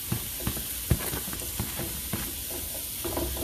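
Onions sizzle steadily in a hot pan, a close, continuous frying hiss broken by a few soft clicks and taps from stirring.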